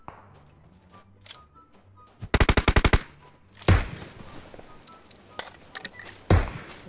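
Gunfire in PUBG Mobile: a tight burst of roughly eight rapid automatic shots rings out, followed by a couple of heavier single blasts and scattered clicks against a quiet background.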